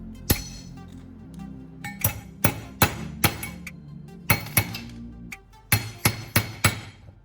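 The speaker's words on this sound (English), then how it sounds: "I'll flip the rivet shaft around and insert back into the rivet body in reverse." A metal rivet shaft is fitted into a rivet body, giving a run of sharp, close clinks and taps in irregular bursts with quiet gaps.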